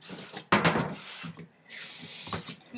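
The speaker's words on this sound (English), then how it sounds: "You rinse it off a little bit, and then you put it back in the pot." Water runs and splashes over washed rice being rinsed in a colander, starting in bursts with a loud gush midway and a steadier stream later, close and alone without talk.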